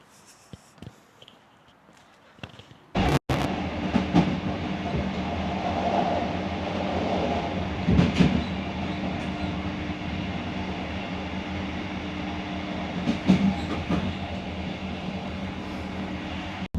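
A train runs near a station: after a few quiet seconds a loud, steady rail rumble and clatter starts abruptly and carries on without a break, with a few sharper bangs along the way.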